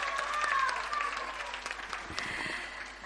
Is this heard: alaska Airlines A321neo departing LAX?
no